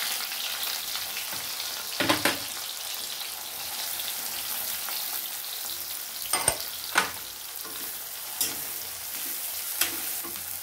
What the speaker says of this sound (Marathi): की मग बारीक चिरलेला कांदा घालायचा। तेल तापल्यावरच कांदा घालायचा।